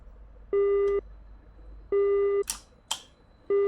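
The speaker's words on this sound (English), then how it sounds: "I hope that wasn't an important phone call" A telephone busy signal plays during a game stream as a steady electronic tone in repeated half-second bursts, joined by a couple of sharp clicks between them, with no voices.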